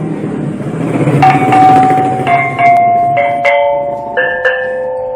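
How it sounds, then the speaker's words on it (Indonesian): A handmade bronze singing bowl from Klungkung, Bali, struck repeatedly so that clear ringing tones overlap and sustain, with changing pitches over a busy background of crowd noise. "Singing bowl berarti mangkok bernyanyi"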